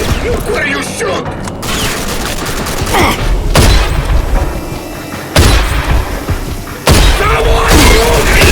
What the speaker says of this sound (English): Someone throw grenade!